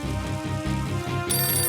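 A telephone ringtone in an animated cartoon episode rings out steadily and fairly loud on its own, a repeating electronic tone pattern pulsing throughout with no talking.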